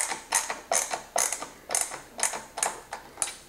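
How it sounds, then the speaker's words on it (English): Small number 6 wood screw driven into wood by hand, a regular series of about eight close clicking, ratcheting turns with brief gaps, no talking. "I can come back in with that little number 6 wood screw and just kind of secure it in place"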